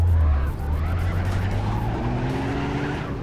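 Car drifting in the driving game City Car Driving: a low, revving engine drone runs under a continuous hiss of skidding tires, with a rising squeal toward the end, close and steady without talk.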